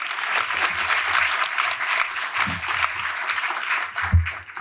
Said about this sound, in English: Can we have another round of applause for the Saugerties Boys and Girls Club?